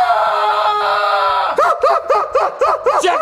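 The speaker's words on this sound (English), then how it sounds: "You're screaming." A boy screams in the dark, one long sustained shriek followed by a rapid series of short, loud, wavering yelps, close and alone.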